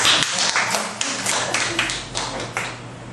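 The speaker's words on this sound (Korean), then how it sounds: "우리 이 대표님께 박수" Audience clapping in honour of a director, a dense run of overlapping claps over about three seconds, fairly close and steady, with no talk over it.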